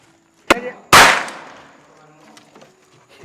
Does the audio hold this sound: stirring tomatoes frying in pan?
no